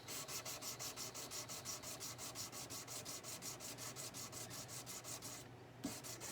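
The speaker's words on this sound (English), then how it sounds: "we're just about at the end of our polishing efforts here" Rhythmic rubbing strokes from polishing the frets on a Martin dreadnought acoustic guitar, a steady back-and-forth rasp repeating about five times a second, close and fairly loud, broken by a brief pause near the end.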